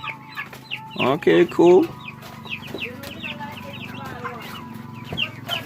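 Backyard chickens, being played with by a young girl, cluck in a loud burst of several calls up close, followed by softer scattered clucks and chatter from the flock, with a person briefly speaking.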